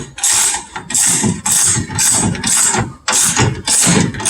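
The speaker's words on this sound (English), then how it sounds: "our son is now putting that shock back on" Ratchet tightening a Jeep shock absorber back on: loud, close bursts of rapid clicking, about seven strokes in an uneven rhythm with short pauses between, metallic and harsh with no talk.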